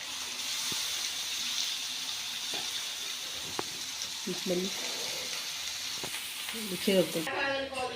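Steady sizzling of chicken frying with turmeric in oil in a pan, with a few scraping stirs and clinks, and faint voices near the end.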